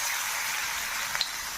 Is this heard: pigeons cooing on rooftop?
no